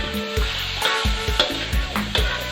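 Pork belly stir-fried with fermented kei khem shrimp paste, a loud, close sizzle with regular scraping and clanking spatula strokes against the pan, several in quick succession.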